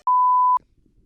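A single steady censor bleep, a pure tone of about half a second, covering a swear word in podcast audio, followed by faint low rumble.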